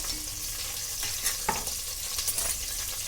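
Green chillies fry in oil in a pan for a cabbage dal curry, giving a steady near sizzle with a few soft stirring scrapes and no voices.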